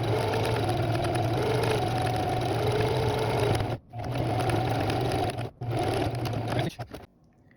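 A sewing machine stitches a seam on a costume vest, running in a steady close whir that stops briefly twice and cuts off near the end.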